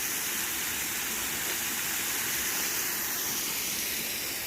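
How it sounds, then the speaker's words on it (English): Steady broadband rush of a waterfall beside the Fiery Gizzard hiking trail, a constant roar filling the scene evenly from start to finish with no voices. "came across this really pretty waterfall"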